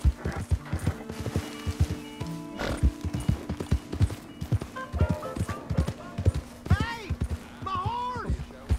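Horse hooves clip-clopping in Red Dead Redemption 2 around Valentine, a steady close rhythm of hoofbeats with occasional snorts and a whinny, under talk.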